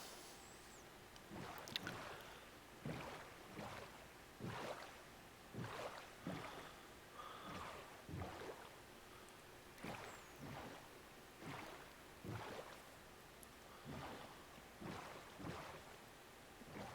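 Boat travelling across water in Minecraft, with rhythmic paddle splashes repeating roughly every second over a soft, steady watery background.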